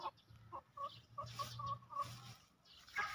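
A chicken with a deworming problem clucks repeatedly in short bursts, fairly close, with quiet background noise and no talking.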